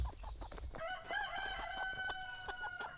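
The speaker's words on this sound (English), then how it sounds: "Cassidy, can you get that chicken out?" Backyard chickens clucking and a rooster crowing in a June garden, close and fairly clear, with a rising crow call over scattered clucks and soft rustling.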